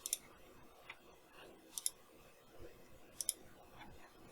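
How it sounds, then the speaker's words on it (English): A computer mouse clicks quietly several times, short sharp ticks coming singly and in quick pairs at close range in an otherwise quiet room. "And then I'm going to click this"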